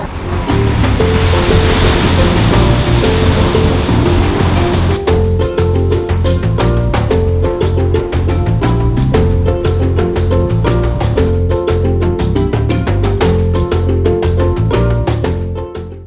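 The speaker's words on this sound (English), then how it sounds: "This is Adina Landing Beach in the Volta region." Surf rolls in on Adina Landing Beach in Ghana's Volta region, a loud, continuous wash of breaking waves heard up close with no voices.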